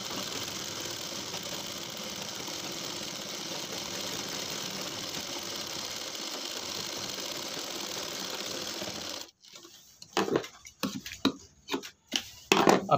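Sewing machine stitching fabric for a reusable shopping bag runs in a steady mechanical whir for several seconds, then stops and gives way to short bursts and handling sounds.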